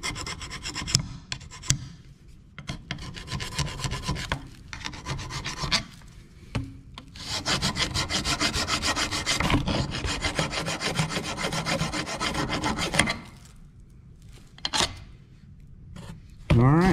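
Steady, rasping back-and-forth scraping and filing of rusted-up brakes, in long continuous strokes with brief pauses and a few sharp knocks near the end.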